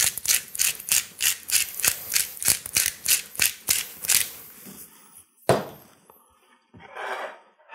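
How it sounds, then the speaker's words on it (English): A pepper mill grinds black pepper over a salmon salad in a quick, steady run of about a dozen close, raspy crunches, then stops, leaving a few softer handling sounds. "one more big grinding of black pepper from high above so you get"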